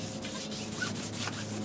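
A plastic Honda headlight from 2006 is wet sanded with 1500 grit paper, giving repeated close, soft, gritty rubbing strokes in an even rhythm, heard alone.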